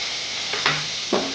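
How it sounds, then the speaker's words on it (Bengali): Onion and garlic paste hits hot oil, giving a steady sizzle with a couple of brief stirring scrapes close by. "এবার পেঁয়াজ আর রসুন বাটাটা দিয়ে দিলাম"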